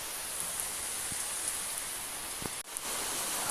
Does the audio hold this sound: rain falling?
yes